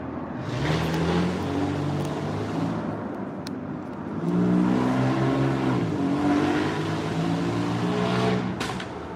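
A car engine runs steadily with a throaty, rough tone, swelling louder around the middle as it revs and holding a strong, close drone until it fades slightly at the end.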